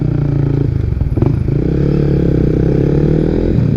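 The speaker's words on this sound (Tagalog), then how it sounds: "Bigla na lang mayroong dumating na scooter ah." A scooter engine arriving abruptly, loud and close, with a steady low motor drone and a clattering scrape partway through, over continuous background noise.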